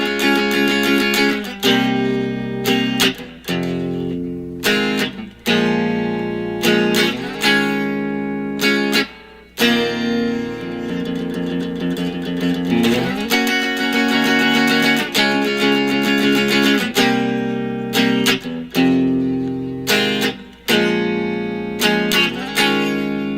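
An electric guitar with distortion plays the bridge of a rock song, punchy chords in rhythmic bursts with short gaps, loud and alone.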